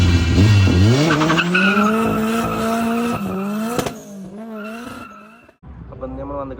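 Cars passing at a JDM car meet in Abu Dhabi, a loud close engine rising in pitch with tyre squeal as it pulls away, then quieter revving vehicles, with people talking in the background.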